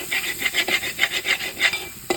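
A spoon stirs chicken curry with spices in a cooking pot, a close, rhythmic series of scraping strokes repeating about every third of a second, with no talk.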